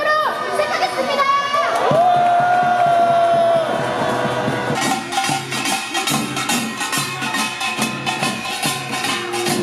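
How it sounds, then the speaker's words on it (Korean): Rally crowd at a national protest assembly cheering and shouting together, a loud, dense wash of many voices with bursts of applause over sustained background music. "참가자분들의 힘찬 박수와 함성으로 시작하겠습니다"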